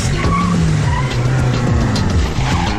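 A vehicle pulls away hard, its tires squealing and skidding loudly up close over a roaring engine for a few seconds.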